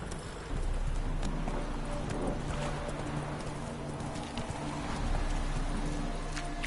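Horse hooves clip-clopping at a steady trot in a video game, a continuous rhythmic beat of hoofbeats over a soft ambient bed, fairly close and moderate in volume.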